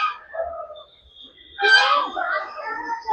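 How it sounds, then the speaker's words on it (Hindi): Parrots and pigeons in a children's park aviary in Delhi give harsh, wailing calls, with one louder burst midway among quieter chattering, close by and mixed with background voices. "पैरेट्स हैं इसके अंदर में।"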